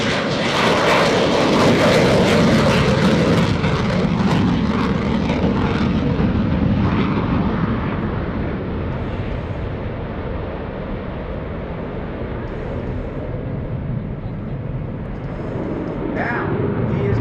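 F/A-18C Hornet fighter jet performing an airshow demonstration pass, a loud roaring jet rush that peaks early then slowly fades and lowers in pitch over many seconds, with a voice talking faintly underneath.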